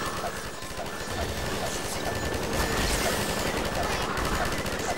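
A mounted machine gun turret in the game Half-Life 2 firing as a continuous, loud stream of rapid rattling shots lasting the whole stretch, with no pauses.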